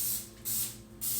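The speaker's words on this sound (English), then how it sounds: "I'm also going to put just a hint of the spray" Cooking oil spray misted onto meat chips in a kitchen: three short pressurized hissing bursts in quick succession, close and fairly loud, with quiet pauses between them.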